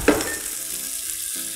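Mutton pieces added to a hot masala of small onions and tomatoes for mutton thokku, giving a brief loud sizzle that settles into a steady, close frying crackle with no talk.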